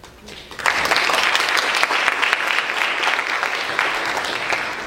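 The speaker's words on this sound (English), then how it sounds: "You can hold your applause till the end" An audience applauding at a poetry reading, a sudden burst of dense clapping that starts after a brief pause and continues steadily and loudly to the end.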